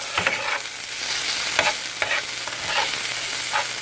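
Tomato paste fries with canned corned beef in a pan, a steady close sizzle broken by a few scraping stirs.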